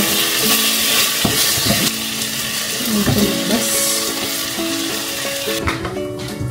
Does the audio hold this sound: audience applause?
no